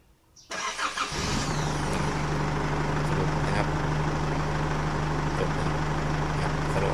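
An Isuzu D-Max pickup's diesel engine cranks briefly, catches, then settles into a loud, steady idle running close by, with no talk over it.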